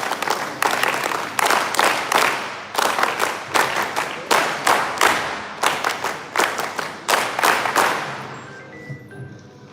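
Rhythmic group clapping for NSS volunteers at a Republic Day Parade Camp event, loud and close in regular bursts with brief gaps, then a trailing fade at the end.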